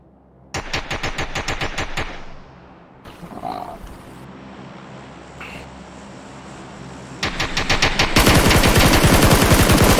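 Automatic bursts of SCAR-L rifle fire in the online shooter PUBG, two rapid volleys of sharp close shots separated by a quieter stretch with faint distant sounds, the second burst running into sustained dense firing.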